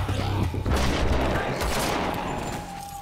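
Rapid gunfire rattles in a dense, loud burst on a film set for a zombie apocalypse drama, the shots crowding together before trailing off.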